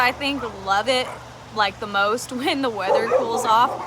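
Pet dogs yip, whimper and bark in short bursts in the background while someone talks over them almost continuously.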